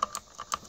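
A few sharp key clicks from a new gaming keyboard, struck one at a time in a loose rhythm, close and fairly quiet with no talk over them.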